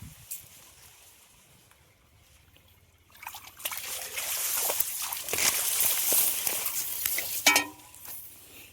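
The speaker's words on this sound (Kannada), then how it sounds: "ಇಲ್ಲಿ ಬರ್ತೈತೆ ನೋಡ್ರಿ ನಮ್ಮ ನೀರು." Irrigation water runs through a field channel on a farm with fodder crops and sugarcane. After a quiet start with a few faint knocks, a steady close rushing trickle with splashy gurgles takes over.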